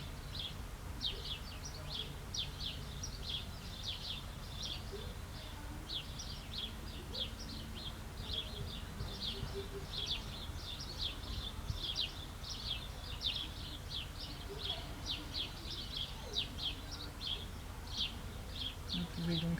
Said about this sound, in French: profiter du silence et du petit bruit des oiseaux, comme moi en ce moment